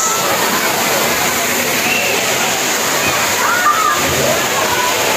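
Constant roar of Balite Falls, a broad steady rush of cascading water filling the scene at close range, with faint splashing and bits of background voices beneath it.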